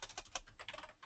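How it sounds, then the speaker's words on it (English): Rapid keystrokes on a computer keyboard, about a dozen close, crisp clicks in an uneven burst over roughly a second, fairly quiet and with no voice over them. "I just typed in directly random.shuffle x"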